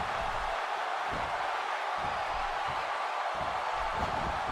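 Arena crowd in the WWE 2K16 wrestling game roars continuously, a loud, dense wash of cheering with no breaks, under faint low thumps from the action in the ring.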